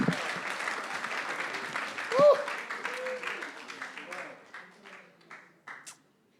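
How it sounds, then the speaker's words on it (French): Applause rises from a church congregation during an Easter service sermon, a broad crowd wash under a preacher's voice that tapers off toward the end. "Donnez une bonne main d'acclamation."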